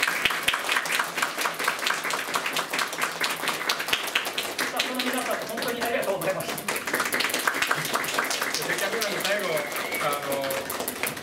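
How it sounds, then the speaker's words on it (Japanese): A crowd claps for a departing store manager at a farewell ceremony at the Funassyi Land main store, the quick clapping steady and close while people talk over it. "拍手をお願いします。"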